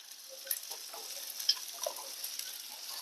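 Fish frying in a pan at home, with a steady crackling sizzle and scattered sharp pops and ticks of oil throughout, fairly faint and close, with no voices.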